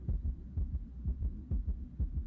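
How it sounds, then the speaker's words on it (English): A heartbeat sound effect, steady low thumping in paired lub-dub beats repeating about twice a second, close and alone. "I don't really have a sound effect for waiting."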